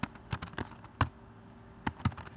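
Keystrokes on a computer keyboard while entering a command in a programming environment, a sparse, irregular run of about eight sharp clicks with short pauses, close and fairly quiet.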